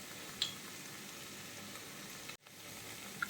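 Okra fries with salt in a pan, making a steady, soft sizzle that is close and even. A brief dropout and a sharp clatter follow near the end, with no talking.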